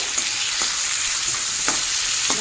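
Drumsticks and potatoes fry in a pan with a steady, close sizzle of hot oil, broken by a few sharp stirring scrapes and pops, with no talking.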